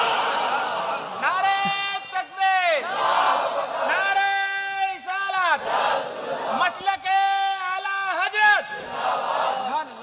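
A large gathered crowd answers a Naara-e-Takbir call with loud, harmonious chanted responses in repeated waves, many voices rising and falling together in a rhythmic religious call-and-response.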